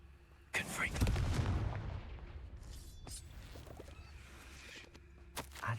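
A Confringo fire spell blast in Hogwarts Legacy: a sharp burst that swells into a rumbling explosion with crackling debris, followed by scattered softer pops and game ambience, at moderate loudness.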